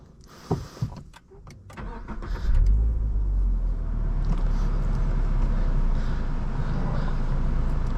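A 2023 Subaru BRZ Premium on a night drive: a few clicks and knocks, then the engine catches and settles into a steady, close, low rumble that continues to the end.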